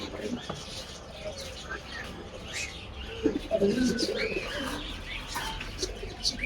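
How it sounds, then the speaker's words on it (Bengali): Lakka pigeons coo softly and repeatedly close by at a pet bird shop in Tongi, Bangladesh, mixed with light chirps and people talking in the background. "দেখতে পাচ্ছেন এক জোড়া লক্ষ্য কবুতর"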